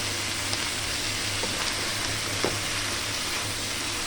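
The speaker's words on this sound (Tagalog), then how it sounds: "pagkatapos ilagay, haluin rin natin. Halu-haluin." Chayote with chicken liver is stirred in a pan, giving a steady soft sizzle with a few faint scraping knocks from the stirring and no talking.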